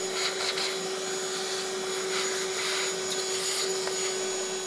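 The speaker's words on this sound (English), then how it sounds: "the best thing to do in here really is to vacuum the vacuum" A vacuum cleaner runs continuously with a steady whine and airy hiss while cleaning out an Ecovacs Deebot DN622 N79 robot vacuum, at moderate distance with no talking.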